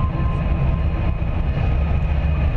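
A train approaching through an abandoned tunnel, a steady loud rumbling roar of wheels and engine echoing in the enclosed space, continuous throughout with no pauses.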